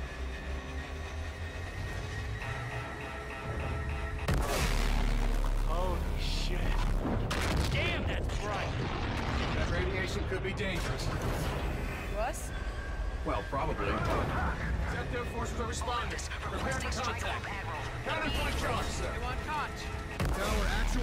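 Missiles launched amid heavy weapons fire: loud, repeated booming blasts and rumbling bursts crowd together continuously, with voices talking over the barrage.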